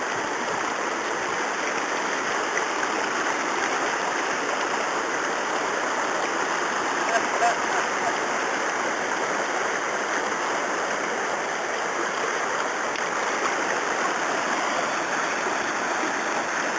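A river flows beside a hiking trail, a steady broad rush of moving water that stays even and constant throughout, with no one speaking over it.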